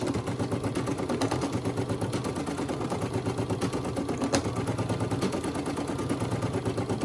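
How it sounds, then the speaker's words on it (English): A Brother SE1900 embroidery machine stitches a Santa hat design, a close, rapid, evenly pulsing mechanical chatter running continuously throughout. "when it starts to write his name, Carl, it's gonna do it on top of the tack down stitch."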